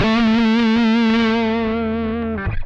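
Electric guitar through a Mosky Classic M-SA distortion pedal with the gain backed off, holding one sustained, slightly wavering distorted chord that rings loud and alone for over two seconds before a brief string noise cuts it off.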